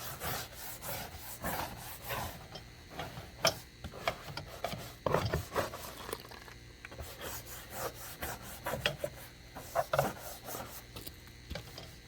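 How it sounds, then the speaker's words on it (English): A brush scrubs water stains off a boat hull in quiet, uneven back-and-forth strokes, a soft rubbing rasp with occasional sharper scrapes. "Just give her a good scrubbing. And as you're scrubbing, you can see it working and getting it off."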